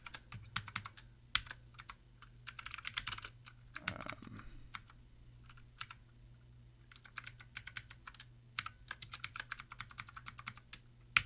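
Steady typing on a computer keyboard while code is written, with rapid close key clicks in uneven bursts and brief pauses, quiet and alone.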